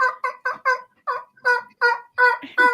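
A man imitates a hen with his voice, producing a string of about ten short, rhythmic clucking bursts, close and fairly loud, with brief gaps between them.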